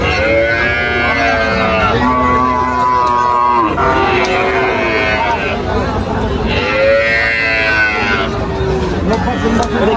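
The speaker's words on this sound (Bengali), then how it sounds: "এখানে আসলে অনেকগুলা বাছুর রয়েছে" Calves and cattle moo at the Tepakhola cattle market, long loud calls repeating close by one after another over a steady background of crowd noise.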